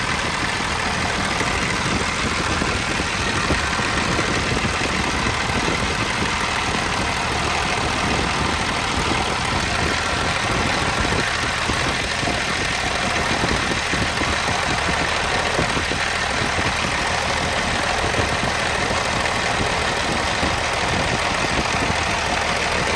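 An International dump truck's diesel engine idles after sitting for 15 years, a steady, close, rumbling drone with an uneven knocking texture that runs unbroken throughout.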